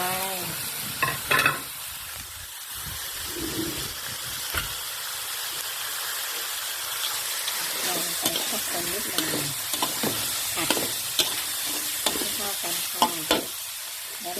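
Long beans are stir-fried in a pan with minced pork and pork sausage, giving a steady loud sizzle with repeated scraping spatula strokes close up throughout.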